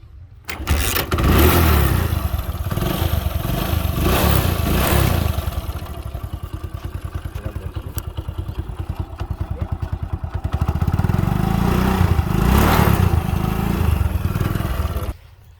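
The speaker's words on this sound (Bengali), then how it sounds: "এবার আপনাদেরকে গাড়ির ইঞ্জিন সাউন্ড শোনানোর চেষ্টা করব।" A second-hand Hero Honda Splendor motorcycle starts up close by, settles into a putting single-cylinder idle, then revs up and back down before cutting off.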